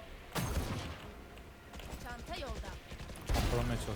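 Several loud, sharp booming bursts from a Brimstone ultimate explosion in a video game, with a big blast near the start and another near the end, under excited talking.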